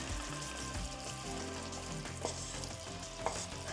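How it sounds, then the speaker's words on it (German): Chicken pieces with water added simmer in a creamy mushroom sauce, giving a steady bubbling sizzle with light stirring scrapes and a couple of sharp utensil clicks, fairly close and with no talking. "Alles zusammen etwa 2 bis 3 Minuten köcheln."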